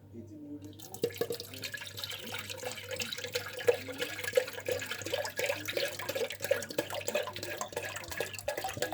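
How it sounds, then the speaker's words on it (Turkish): Water pours steadily from a measuring jug into a batch of sugar and lemon-salt drink, making a continuous close splashing trickle with light gurgling for the whole stretch. "Ondan sonra 2 litre daha su ilave edeceğiz"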